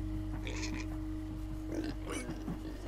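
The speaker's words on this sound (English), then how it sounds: "Hey, all pigs but Reuben, shut up" Pig oinks from the video game Minecraft Story Mode, a few short grunting bursts over steady game music and background hum, with a person talking alongside.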